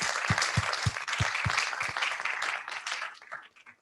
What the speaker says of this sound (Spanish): Pues un aplauso para José Luis, me encantaría.